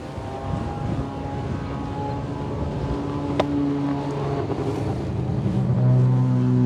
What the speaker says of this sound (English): It seems like he's a little low in the RPMs for a rotary.